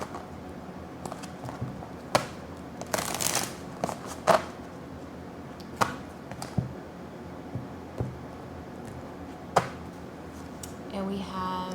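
Oracle cards shuffled by hand during a tarot reading, a soft papery riffle with several sharp snaps and flicks spread across the stretch, fairly quiet against a low room hum, with no talking.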